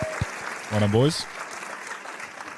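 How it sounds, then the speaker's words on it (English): Brief applause and cheering from a crowd, rising for about a second beneath a man's spoken words. "Give him a round of applause."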